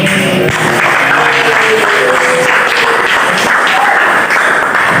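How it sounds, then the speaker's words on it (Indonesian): A group of students clap their hands together at the close of a classroom discussion, loud and continuous across the whole stretch, with a few faint voices mixed in. "kita tepuk tangan untuk kita semua"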